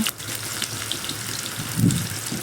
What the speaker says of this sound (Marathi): कोथिंबीर कांदा टमाटर अद्रक लसूण जिरे सगळं ते काढून घेतलेलं तो मसाला मी आता तेलात टाकते